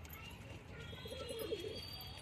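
Hyderabadi kale chandne pigeons coo softly and steadily at close range, a low continuous murmur of several birds against a faint background hum.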